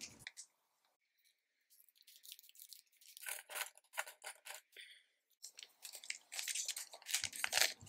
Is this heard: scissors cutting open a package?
yes